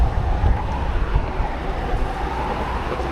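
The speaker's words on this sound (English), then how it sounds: "the wind is making it very, very difficult" Strong wind buffeting the microphone at a fishing spot under a motorway, a loud low rumbling roar with gusty surges, continuous and close, with no talk.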